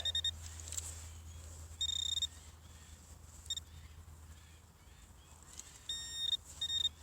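An XP Deus metal detector gives short, high electronic beeps over a tiny buried target, several brief tones spaced irregularly over a steady low background hum, fairly close and clear.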